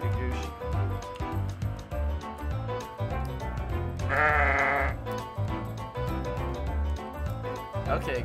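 A loud sheep bleat from a Roblox farm game rises midway through, a quavering cry over bouncy background game music.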